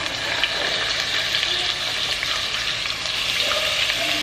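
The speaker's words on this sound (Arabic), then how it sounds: "طيب لما يسخن الزيت حنضيف البصل" Onions dropped into heated oil sizzle and fry steadily in a home kitchen, a dense, even crackling hiss that holds at a constant level with no voices over it.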